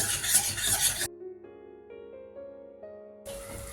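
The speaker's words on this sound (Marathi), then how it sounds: "आता हे हिरवं वाटण छान आपण परतून घेणार आहोत तेलामध्ये" Green masala paste sautés in hot oil for Hyderabadi paneer. A steady close sizzle is broken in the middle by a short rising musical tone run, then the sizzle returns.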